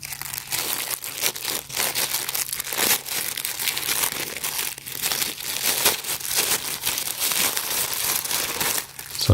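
Close crinkling and tearing of plastic packaging as a battery power bank case for 18650 lithium-ion cells is unwrapped. The crackling is loud and continuous for about nine seconds.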